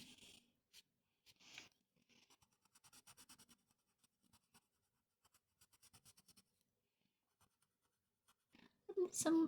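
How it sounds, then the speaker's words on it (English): Pen drawing hair strokes on paper during a colouring session with cheap dollar-store art supplies: repeated short scratchy strokes in quick bursts, fairly close, with a louder rub near the end. "Actually bringing in the pen for some of these hair strokes."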